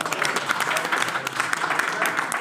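Audience clapping at a Hindi poetry recital, a dense steady burst of many hands close by, filling the short moment without a break.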